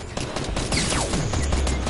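Rapid video game gunfire fills the scene, a continuous loud fusillade of overlapping automatic bursts and shots without pause, close and dense throughout.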